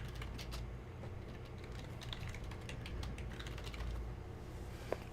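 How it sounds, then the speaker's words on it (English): Fingers type on a computer keyboard in a run of quiet, irregular key clicks over a low background hum, with no clear speech. "I'm typing a response because that's where DeAndre is."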